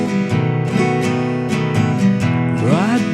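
Acoustic guitar strumming a simple two-chord song in a steady down, down, up, down, up pattern, with evenly spaced strums ringing out clearly and a chord change near the end.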